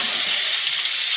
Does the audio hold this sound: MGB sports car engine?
no